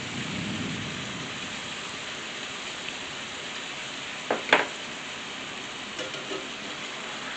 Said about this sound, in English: We're getting a storm.